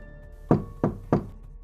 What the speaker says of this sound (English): 3 distinct strikes in the wall